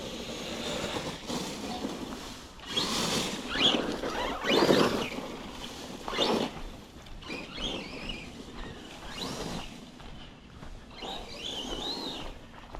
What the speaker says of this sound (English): We're just going to test drive this in the yard.